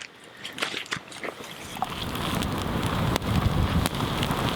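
Water in a pot over a campfire coming to a rolling boil at a bushcraft camp, starting with crackly pops and settling into a dense steady bubbling rush that grows louder.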